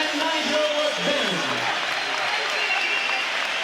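A boxing arena crowd applauds and cheers after a championship fight, a broad continuous roar of clapping with an announcer's voice talking over it at the start.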